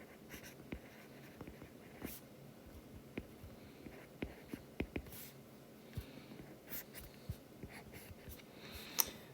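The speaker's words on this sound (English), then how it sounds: "I'm going to write up here that this is tangency." Marker or chalk writing on a lecture board during an economics problem, made of short scratchy strokes and taps in irregular bursts with quiet pauses between them, close and fairly faint.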